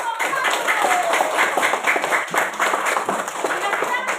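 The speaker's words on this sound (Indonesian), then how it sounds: "Ayo tepuk tangan dulu untuk kelompok 1." A classroom of students claps for group 1, a busy, continuous patter of many hands close by, with voices and chatter mixed in underneath throughout.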